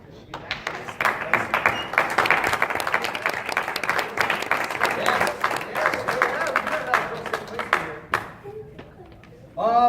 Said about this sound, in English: let's give a round of applause for this wrestler